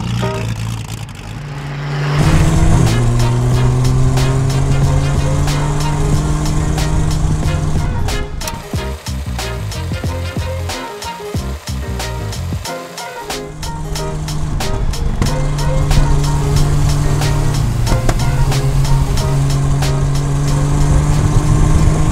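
1936 Delahaye 135 Competition Speciale driving on a rough mixed road and dirt track, loud close engine note rising and falling through gear changes, with crunching and rattling from the surface throughout.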